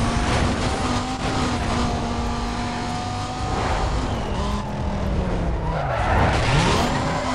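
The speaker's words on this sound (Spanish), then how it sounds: "porque o lo mismo te derrapa un montón" Tires screech as a car skids through corners in the racing game Need for Speed Most Wanted, with a loud, sustained engine roar and squeal running throughout and a sharper slide near the end.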